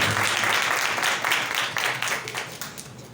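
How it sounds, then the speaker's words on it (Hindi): Dense, sustained applause from a large crowd at a Christian worship service, steady clapping filling the whole stretch with slight swells and dips. "जोरदार तालियां खुदा की तिलावत के लिए।"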